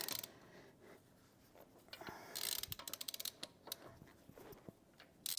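Wheel lug nuts on a Tesla Model Y tightened in a star pattern by hand with a ratchet, quiet bursts of rapid clicking with pauses and a few metallic knocks, close up.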